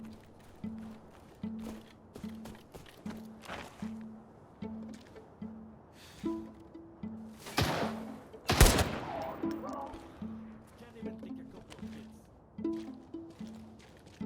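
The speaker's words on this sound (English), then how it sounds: "I heard shots from the motel." Distant gunshots from a motel in the shooter game Arena Breakout: scattered cracks and a couple of louder bursts over rhythmic running footsteps, with game ambience throughout.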